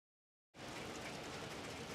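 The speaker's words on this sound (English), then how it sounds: "And the rain will continue to fall." Rain falls at an outdoor lacrosse game, a dense, even hiss that starts abruptly after a brief silence and holds steady and fairly loud.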